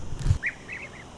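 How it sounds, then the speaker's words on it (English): A flock of ducks resting together on a hillside trail lets out several short, nasal quacks in a loose series, moderately distant, after a brief low thump nearby. "Wow, there's a lot of birds just chilling there."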